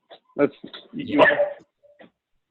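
A dog gives a short run of yips, a whimper and a bark indoors, close and fairly loud, mixed with voice-like sounds during a video call.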